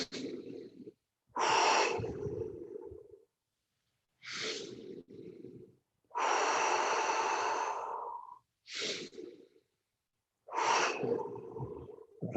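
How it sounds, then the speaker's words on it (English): Deep breathing exercise: long, slow inhales and exhales out through the mouth, close and clear, in a steady cycle separated by short pauses. "like really deep in, breathe out through the mouth"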